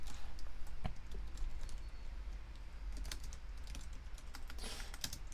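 Typing on a computer keyboard, a steady run of quick, irregular key clicks close by with a few louder strikes, heard alone with no talk.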